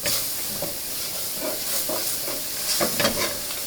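Garlic and green beans sizzling in a hot pan, a steady close hiss with soft spatters and a few stirring scrapes, loudest near the end.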